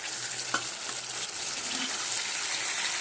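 Previously fried paneer pieces go into a hot pan and sizzle steadily, a constant close frying hiss with a couple of soft stirring knocks near the start.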